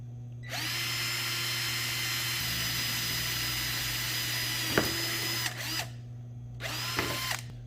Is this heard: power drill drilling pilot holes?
yes